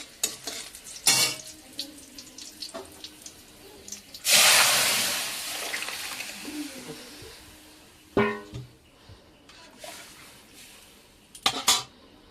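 Boiled dal tipped into hot oil in a home kitchen pan, with a loud hissing sizzle burst that fades slowly, surrounded by scattered utensil clinks and stirring scrapes; no talking.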